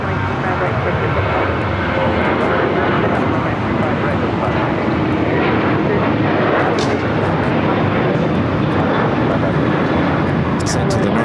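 A KLM airliner arriving at Los Angeles airport on the north side makes a loud, steady jet roar that holds unbroken throughout.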